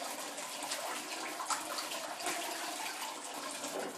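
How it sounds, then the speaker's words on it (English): Hot water runs from a tap into a bathroom sink, a steady close rush with slight splashing throughout. "So I filled my sink up with some warm water."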